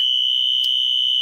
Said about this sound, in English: We're testing our fire alarm system